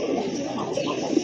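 A pair of large Nun pigeons at a loft coo softly and briefly, with low, murmuring tones at close range and a little background noise.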